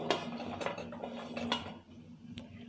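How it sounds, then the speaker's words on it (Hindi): Shakarpara pieces dropped bit by bit into hardened sugar syrup in a pot, a series of light clinks and scrapes of a spoon against metal over a low steady hum, close up without talk. "अब हम इन शक्करपारों को थोड़ा थोड़ा करके चाशनी में डालेंगे"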